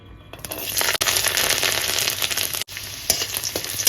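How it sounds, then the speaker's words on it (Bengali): Garlic frying in a little hot refined oil in a kadai, a loud close sizzle that rises fast and crackles steadily, broken by two brief dips, with no voices. "তেল গরম হয়ে গেছে তেলের মধ্যে দিয়ে দেবো রসুন"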